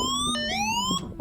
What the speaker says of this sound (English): then the really annoying alarm will come on